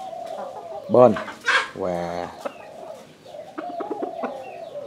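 A rooster makes two short clucking calls close by, the second a longer harmonic burst, while someone talks quietly around them.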